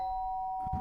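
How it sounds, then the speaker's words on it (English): Doorbell ringing in the video game Danganronpa: Trigger Happy Havoc, a single sustained electronic chime tone held clearly, ending with a brief soft thump. "The sharp sound of the doorbell pierced my sleeping haze and pulled me back to the real world"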